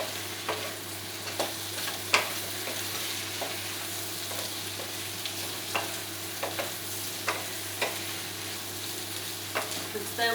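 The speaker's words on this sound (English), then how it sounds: "I'm going to put all my veggies in my wok. And give stir fry around couple minutes." Vegetables stir-fry in a wok for sweet and sour pork, a steady sizzling hiss broken by repeated scraping and tapping of the spatula.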